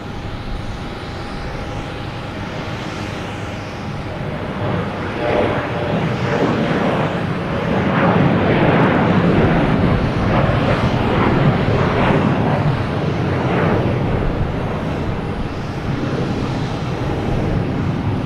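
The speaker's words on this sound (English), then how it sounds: "That's Southwest who just came in from St. Louis." A Southwest airliner arriving from St. Louis at Boston Logan passes with a loud jet roar that builds to a peak midway and then slowly eases off, a thin whine running through it.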